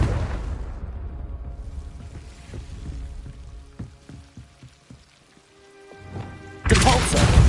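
Confringo blast spell in Hogwarts Legacy: a softer crackling, rain-like wash of game ambience fades away. Scattered small ticks follow, then a sudden loud, wide burst erupts near the end.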